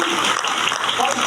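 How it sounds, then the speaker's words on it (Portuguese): Church congregation applauding at a Bible study service, a short burst of dense clapping with voices mixed in. "Você pode aplaudir o nome do Senhor."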